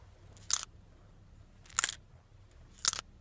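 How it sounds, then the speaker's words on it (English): A Paper Mate InkJoy pen's loose clicking mechanism rattling: three short, crisp clicks spaced about a second apart, close and quiet against near silence. "The whole clicking mechanism just moves freely about."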